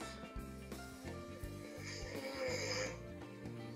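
Recorded snoring played back from the sleep tracking of a Samsung Galaxy Watch 4 Classic LTE 46mm: a steady, muffled snore with a low, humming drone that continues throughout, moderately quiet and with no talking.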